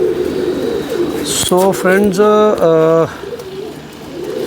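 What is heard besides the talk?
pigeons cooing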